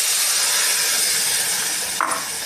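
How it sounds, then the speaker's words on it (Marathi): Boiled dal poured into a hot tempering of mustard seeds and curry leaves hisses loudly and steadily at close range, with a brief clatter near the end. "उकळलेली डाळ फोडणीसाठी टाकणार आहोत"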